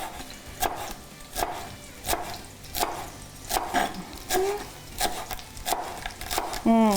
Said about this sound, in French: Normalement haché finement.